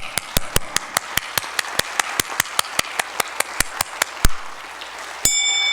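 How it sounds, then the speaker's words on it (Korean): A church congregation claps in unison during a worship service, about twenty sharp, evenly spaced claps in a brisk steady rhythm, fairly close and loud, ending in a louder burst and a sustained tone. "박수 한번 합니다."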